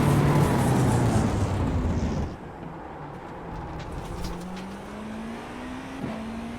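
A GTP prototype race car in the iRacing simulator runs at full speed at Motegi, a loud engine drone that drops sharply on a lift, then rises in a steady whine as it builds speed again.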